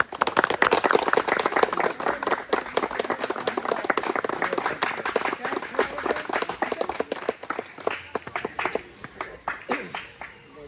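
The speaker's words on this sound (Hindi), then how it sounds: "चलिए ताली की आवाज़ होनी चाहिए" Clapping from an audience at an event, starting dense and loud, then thinning into scattered, sharper individual claps that fade toward the end.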